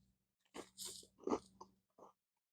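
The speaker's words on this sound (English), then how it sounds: "the crackers, that you get that crunch with that" Crackers from a 1992 US MRE (Menu 12, escalloped potatoes with ham) are crunched in close, quiet bites: several crisp chewing crunches in an irregular rhythm, with no talk.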